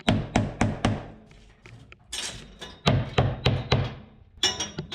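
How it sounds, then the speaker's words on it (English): A hammer taps a board held tight in clamps, delivering sharp, close knocks in quick clusters of three or four, separated by short pauses. "I always go back with a hammer to cinch this up."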